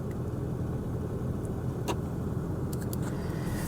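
A 1987 Chevy Monte Carlo Luxury Sport engine runs rough with a steady, low, uneven rumble, fairly quiet and continuous, with a few faint clicks on top.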